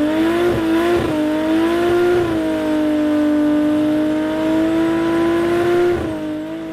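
A race car engine warms up after an oil filter repair at a drag strip event, a steady loud idle with a high revving drone, brief throttle blips near the start and end, and no talk.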